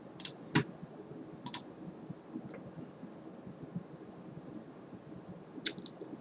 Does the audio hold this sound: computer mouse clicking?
yes